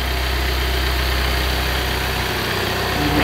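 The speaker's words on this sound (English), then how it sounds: "So we have the generator running." A steady engine drone from an Integrel generator for a MAN motorhome's 48V lithium system, run on a test bench, holds a constant low hum with even vibration for a few seconds, loud and uninterrupted.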